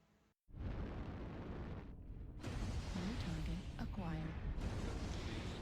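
Dual ER PPC weapons on a Huntsman mech in MechWarrior Online fire in heavy, sustained energy bursts and booming discharges, loud and dense throughout, with a brief silence near the start.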